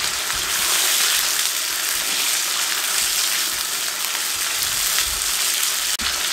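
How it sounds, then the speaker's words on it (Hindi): Chicken for karahi frying in a pan over a high flame, giving a loud, steady, close-up sizzle with crackling oil throughout and a single clunk near the end. "हाई फ्लेम में इसको हम जो है ना फ्राई करेंगे, लाइट ब्राउन करेंगे"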